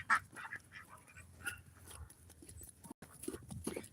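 Ancona ducks in a poultry flock give a few quick quacks close by, loudest at the start, over a busy background of shuffling and small movements with no talk.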